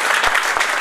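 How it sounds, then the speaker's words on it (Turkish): An audience claps in a short, dense burst of applause at close range, with no voices on top. "Fethişmenek ağabeyimizi bir alkışlayabilir miyiz?"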